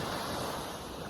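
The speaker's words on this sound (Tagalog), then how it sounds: "Andito pala ako sa tabing dagat" Ocean waves breaking at the seashore, a steady broadband wash of surf with some wind noise on the microphone, continuous and fairly close throughout.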